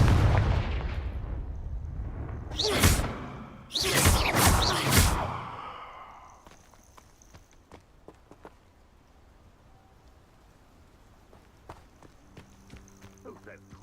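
Confringo fire-spell blasts in the video game Hogwarts Legacy: two loud bursts of explosive cracks with rumbling roar in the first half, then fading to scattered faint clicks and quiet background.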